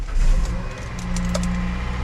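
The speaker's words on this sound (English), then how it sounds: "Let's start up the car." A 7th-generation Toyota Celica, under repair for a catalytic converter fault code, starts up close by, a short cranking surge settling into a steady low idle with faint rattles.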